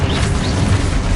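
Expulso spell blast in Hogwarts Legacy, a loud, dense, sustained boom with rumbling low end filling the whole moment, no voices.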